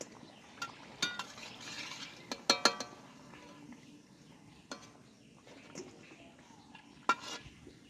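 Fried jackfruit and banana fritters are lifted from a pan with a metal utensil, giving faint sizzling beneath scattered sharp clinks and scrapes against the pan, close and quiet, with no talking.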